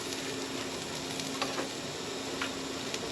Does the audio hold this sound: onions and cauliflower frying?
yes